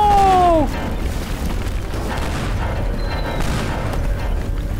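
Exploding pianos fall from space in the video game Teardown, setting off a deep boom that trails into a sustained rumbling roar.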